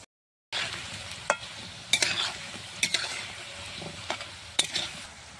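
Palm-pulp fritters frying slowly in oil give a continuous close sizzle, broken by sharp spatter pops and utensil clicks every second or so, with no one speaking.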